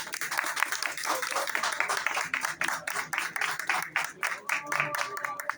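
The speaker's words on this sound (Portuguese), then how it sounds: "eu queria uma salva de palmas bem forte para esse lutador do povo brasileiro, esse professor Aldo Santos" Strong applause for a professor at a protest rally, dense rhythmic clapping from a crowd swelling and dipping, with some voices mixed in.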